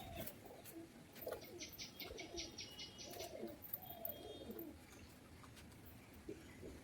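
Several pigeons coo in low, rolling calls at a distance, with a few faint chirps overhead and a quiet outdoor background.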